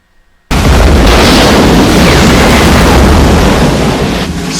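Torpedo explosion from the submarine comedy film Down Periscope, a sudden loud roaring blast that starts abruptly after brief quiet and keeps rumbling and hissing for several seconds.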